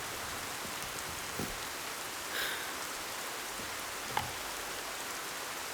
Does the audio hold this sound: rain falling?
yes